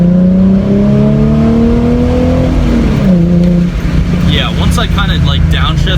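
Car fitted with a Pypes mid-muffler true dual cat-back exhaust accelerating hard after a downshift, a loud, close engine drone rising steadily in pitch.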